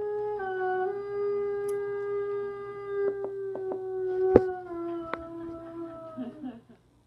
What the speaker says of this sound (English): This is the Arctic wolf howl.